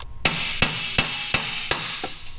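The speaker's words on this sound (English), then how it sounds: "using this body hammer with a punch" A body hammer drives a punch against a bare off-road motorcycle frame, ringing out six sharp metallic strikes in a steady, roughly even rhythm, close and loud with no talking.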